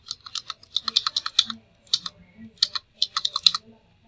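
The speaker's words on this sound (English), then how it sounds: "Keyboard abuse, I'm sorry." Rapid, forceful typing on a computer keyboard, bursts of sharp clacking keystrokes with brief pauses between runs, close and loud with no talking.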